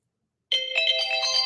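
A phone ringtone starts abruptly, a loud, bright electronic melody of close, ringing tones that plays steadily to the end with no talk.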